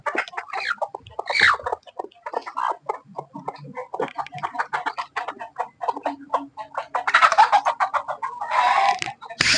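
Chickens on a goat farm in Karnataka cluck and squawk in quick irregular bursts close by, several birds calling over one another, with a louder flurry of calls near the end.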